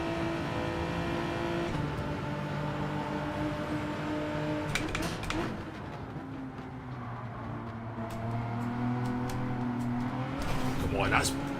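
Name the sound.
race car engine in Gran Turismo 7 video game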